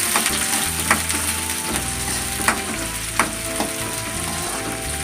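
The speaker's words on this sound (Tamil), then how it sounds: "வெங்காயம் நல்லா செவட்டும்." Shallots sizzle steadily as they fry in a pan for crab masala gravy, with a continuous hiss broken by a few sharp stirring scrapes and clinks; no talking.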